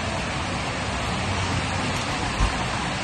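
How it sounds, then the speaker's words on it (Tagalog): Heavy rain pouring down as a steady, dense hiss of even noise throughout, with a single soft thump near the end and no talking. "Ang lakas ng ulan, guys."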